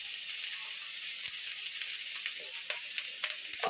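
Ginger paste, tomato, turmeric, chilli powder and cumin paste frying in a pan for an egg curry, a loud, dense, continuous sizzle with scattered crackles and scraping stirs throughout.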